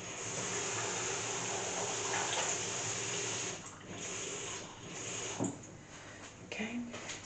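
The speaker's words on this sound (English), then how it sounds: "So I'm just going to get the potatoes in, and then just enough water to cover." Tap water pours into a cooking pan over raw potatoes in a kitchen, a steady broadband rush for about three and a half seconds, then quieter splashing and trickling with a few small knocks.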